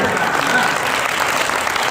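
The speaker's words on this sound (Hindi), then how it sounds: "तालियां बजाया" Audience applause at a kavi sammelan poetry gathering, a steady burst of many hands clapping close and loud for about two seconds, with a crowd murmur mixed in.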